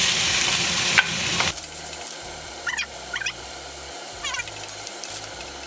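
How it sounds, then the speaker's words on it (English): Onions stir-frying in a pan for homemade curry, a loud sizzle that drops off as the pan is stirred, followed by intermittent scraping strokes of the utensil against the pan. "You have to stir for a long time until it turns brown."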